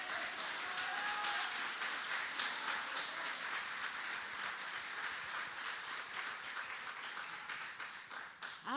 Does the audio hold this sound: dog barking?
no